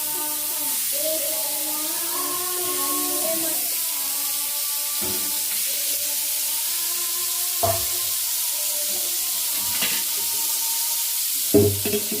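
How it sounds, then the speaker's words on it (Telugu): Fish pieces frying in hot oil in a pan, a steady sizzle and hiss running throughout with occasional stirring clinks, while someone talks over the cooking. "చేప ముక్క మొత్తం ఫ్రై చేసుకోవచ్చు ఇంకా ఆయిల్తోనే"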